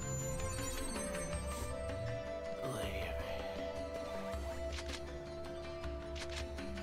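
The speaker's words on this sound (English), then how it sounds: "My phone's reminding me that it's time to wake up." A phone reminder alarm rings during .hack//G.U. Last Recode gameplay, a repeating electronic tone pattern over game music and sound effects, with faint speech underneath.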